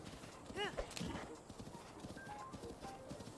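A horse's hooves clip-clop steadily in the video game Zelda: Breath of the Wild, faint and regular, with a brief whinny near the start and a voice talking over it.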